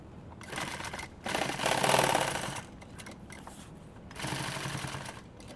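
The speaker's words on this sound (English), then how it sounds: "I'm going to sew some Velcro there" A sewing machine stitching Velcro onto a lid of a handmade pouch, buzzing in close steady runs of rapid needle strokes that stop and start several times.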